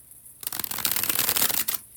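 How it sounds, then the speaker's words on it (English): A deck of playing cards riffled in a bridge shuffle at close range: a dense, continuous flutter of cards lasting over a second, then quiet. "when I do the bridge shuffle"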